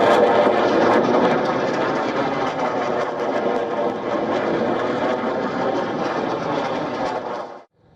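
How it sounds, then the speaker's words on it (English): A military helicopter lifting off after repairs roars loudly and steadily with broad rotor and engine noise, then cuts off abruptly at the end. "The stranded helicopter finally took off after technical teams repaired the malfunction."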